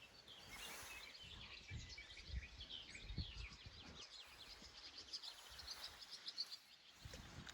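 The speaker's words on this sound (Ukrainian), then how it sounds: "Пташки співають" Birds chirp and sing in scattered, overlapping calls outdoors, with a faint insect hum and low rustling in the background.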